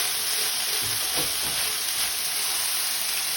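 Onions and other vegetables for a one-pot chicken pot pie sizzle as they're mixed and sweated in a pot, giving a steady, close, unbroken hiss with no voices.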